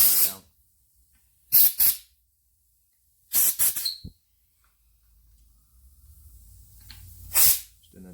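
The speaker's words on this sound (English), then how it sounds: "I just give them a quick blowout, so if there's any penetrating fluid or any muck in them, it's not going to stop the bolt from going down." Short bursts of compressed air blast into capped bolt holes on a Land Rover Defender Puma 2.4 gearbox, three loud hissing puffs separated by quiet gaps, with a faint low rumble between them.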